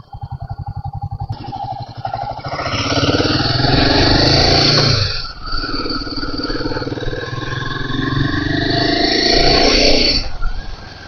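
A Royal Enfield Himalayan motorcycle engine runs close by, starting with a steady idle thump and then rising into two loud, sustained revs with a brief dip between them.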